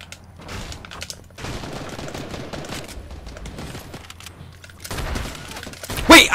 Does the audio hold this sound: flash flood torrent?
no